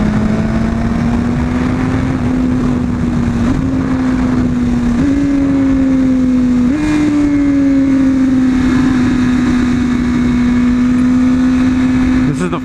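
A motorcycle called Nimbus idles and runs steadily up close, its engine drone holding loud and continuous with small stepwise rises in pitch, while a person talks over it.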